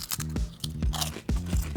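Someone bites and chews a crunchy shrimp-cocktail-flavored chip close to the microphone, giving several sharp crackling crunches in an uneven rhythm with faint tonal hum underneath and no talking.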